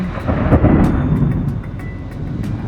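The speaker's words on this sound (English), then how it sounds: "It's thundering and lightning." A deep, steady rumble of thunder rolls on continuously, loud and broad, with no voices.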